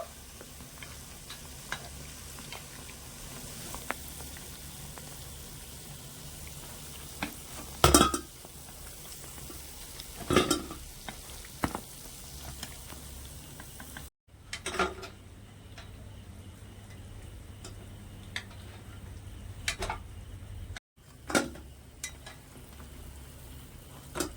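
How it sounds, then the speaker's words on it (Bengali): A soft, steady sizzle of pal cake pieces, a sweet flour-dough snack, frying in oil, broken now and then by faint clinks of a utensil against the pan. "এখানে কিন্তু আমার পালকিটগুলো খুব ভালোভাবে ভাজা হয়ে গেছে"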